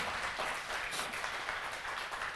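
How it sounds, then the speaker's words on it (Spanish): Steady applause from a conference audience honoring a speaker, a dense, continuous wash of many hands clapping close by, with no voices over it. "Aplausos para el doctor José Salinas"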